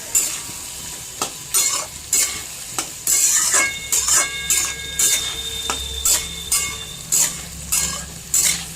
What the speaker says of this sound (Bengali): এটা একটু ভাজতে হবে যাতে ভাজা ভাজা পোস্তর গন্ধটা বেরিয়ে আসে।